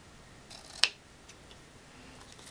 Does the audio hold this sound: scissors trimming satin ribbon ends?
yes